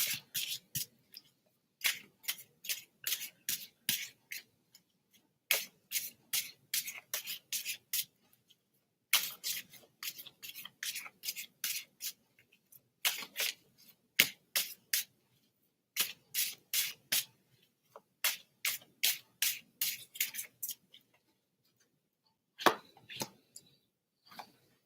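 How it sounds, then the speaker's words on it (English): Playing cards are shuffled close up in quick riffling bursts, several strokes at a time with brief pauses between groups. The sound is quiet, with no talk over it. "When I was shuffling the cards"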